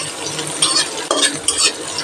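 Washed raisins frying and being stirred in hot oil or ghee over low heat, a steady close sizzle broken by a few scraping stirs of a spoon against the pan.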